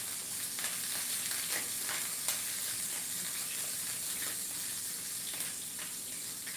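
Meat sears in a hot pan while rigatoni dinner is being cooked, a continuous fairly quiet sizzle and hiss with occasional small crackles and pops and no talking.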